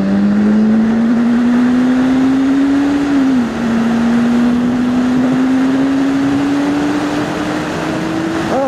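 A BMW S1000RR motorcycle engine drones loudly and steadily, its pitch climbing slowly under acceleration, with a brief dip around a gear change before it keeps rising, heard close up and alone without talk.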